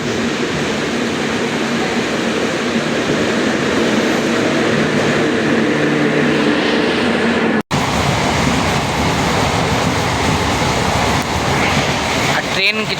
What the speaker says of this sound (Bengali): এরপর দেখি কোনটাতে ট্রেন আসছে